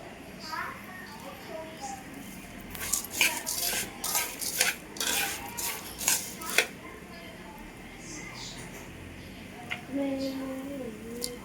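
Sugar is stirred into hot oil in a pan for homemade pop rice, with a burst of clinking, scraping utensil strokes against the pan in the middle, then quieter stirring and a short bit of voice near the end.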